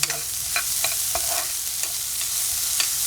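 Chopped onions sauté in hot oil with a little salt for a butter beans poriyal, giving a steady close sizzle broken by repeated scraping stirs of a spoon against the pan, with no talking.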